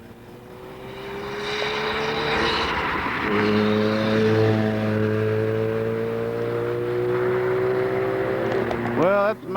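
A race car on its warm-up lap at Summit Point Raceway, West Virginia, the engine droning steadily and swelling as it passes nearby, with a sharp rising rev at the end.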